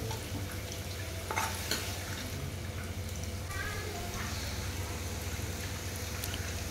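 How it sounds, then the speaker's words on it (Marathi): Spinach cooking in a pan gives off a soft, continuous bubbling sizzle, broken by a few brief clinks and scrapes as it is stirred. "2 ते 3 मिनिटं असंच आपल्याला शिजवून घ्यायचं आहे पालक।"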